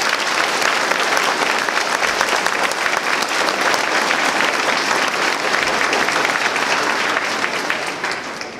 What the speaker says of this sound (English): Let's give them a big round of applause for their hard work.